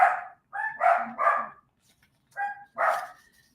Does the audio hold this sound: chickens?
no